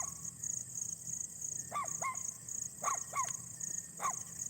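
A dog barks several times in quick pairs, somewhat distant, over a steady background hum.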